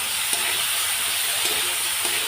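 Vegetables sauté in a pan with a constant, even hiss of frying oil, close and fairly loud, with a few faint taps of stirring and no talk.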